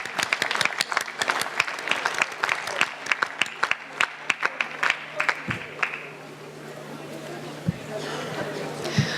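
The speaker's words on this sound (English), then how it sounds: "please give them a huge round of applause" Audience applause at a 2019 award ceremony for youth empowerment policy, with loud claps that fade after about six seconds, then scattered claps and murmuring crowd chatter over a low steady hum.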